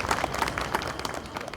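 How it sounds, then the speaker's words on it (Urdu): An audience at a book launch ceremony in Pakistan applauds, the fairly faint, steady clapping of a crowd filling the whole moment. "آپ کی بھرپور تالیوں میں"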